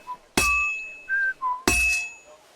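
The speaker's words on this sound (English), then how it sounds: "we stopped the whistling" Several short tonal whistled notes in Kingdom Come: Deliverance II, heard near a forge between two loud metallic clangs.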